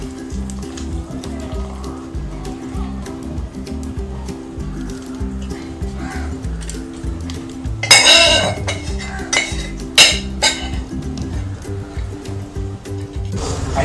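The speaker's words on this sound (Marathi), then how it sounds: "मी आता हा रवा पाकात छान मिक्स करून घ्यायचा आहे." Semolina is stirred into hot sugar syrup in a pan for laddoos, with steady scraping and clinking of a spoon against metal, punctuated by a few louder clanks near the end.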